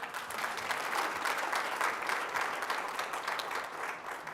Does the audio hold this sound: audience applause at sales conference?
yes